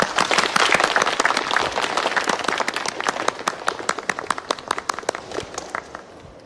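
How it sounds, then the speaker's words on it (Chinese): Colleagues in an office meeting break into applause, a dense burst of many hands clapping that gradually thins into scattered, sharper individual claps as it fades out over several seconds. "非常对，大家鼓掌。"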